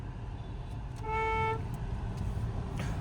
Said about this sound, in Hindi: हॉर्न थोड़ा लॉन्ग बजाया करिए।